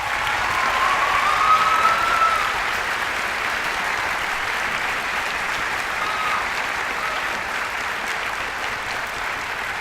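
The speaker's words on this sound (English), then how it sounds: "Let's give them a quick round of applause." An audience at a high school band concert gives a sustained round of applause, steady and full throughout, with a brief whistle early on and no talking.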